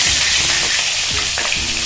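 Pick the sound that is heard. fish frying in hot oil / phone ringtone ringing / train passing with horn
fish frying in hot oil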